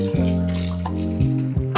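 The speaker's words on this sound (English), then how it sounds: "Going in with some boiling water." Boiling water being poured into a pot of Jamaican-style pot roast beef with sorrel and spice, a steady close liquid stream with a rising tone as the pot fills, no talking.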